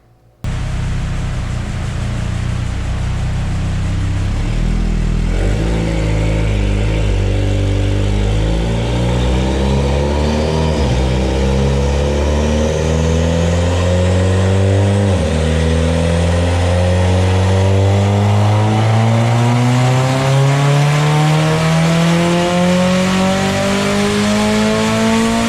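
A Mitsubishi Evo X MR with an 18k turbo on a dyno, revving loud and alone as the engine pitch climbs steadily through a long pull, with a brief dip and gear change along the way.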